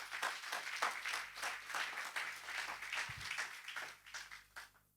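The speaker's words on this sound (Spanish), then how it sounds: "Dale un aplauso a Jesús." A church congregation applauds, with irregular bursts of clapping from many hands that rise and fall over several seconds at moderate distance before tapering off.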